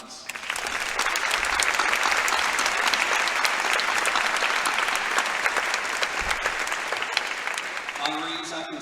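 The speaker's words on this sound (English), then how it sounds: "join me in one more round of applause for all of our honorees" An audience at a faculty and staff awards ceremony gives honorees a loud, sustained round of applause, dense clapping filling the hall before it tapers off into the start of speech.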